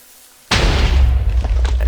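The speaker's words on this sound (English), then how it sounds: "TNT takes about 5 seconds to explode" A Minecraft TNT block explodes in one sudden loud boom after a quiet moment, then a rumbling, crackling roar trails off.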